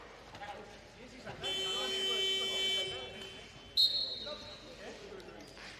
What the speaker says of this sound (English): Very persistent with that buzzer on the bench.